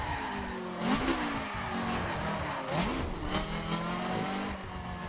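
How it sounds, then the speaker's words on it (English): A BMW M4 in the racing game The Crew does a burnout, the engine revving in rising and falling surges while tires squeal, fairly loud and unbroken for several seconds. "So, yeah, we do a little burnout."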